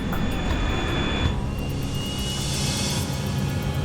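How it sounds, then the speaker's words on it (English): A four-engine cargo jet lifts off the runway near Miami at full takeoff power, a loud, rushing roar that thickens and brightens partway through and holds steady without talk. "The plane lifts off the runway."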